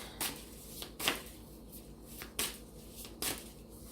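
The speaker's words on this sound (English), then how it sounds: "So shuffle the cards." Tarot cards shuffled by hand in a few separate sharp bursts, spaced unevenly, close and fairly quiet with a faint hum beneath.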